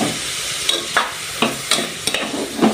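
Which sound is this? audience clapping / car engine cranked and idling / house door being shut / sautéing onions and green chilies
sautéing onions and green chilies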